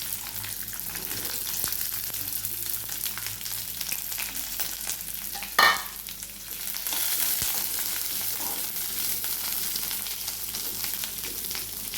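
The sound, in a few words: sautéing vakkaya (karonda) pieces in oil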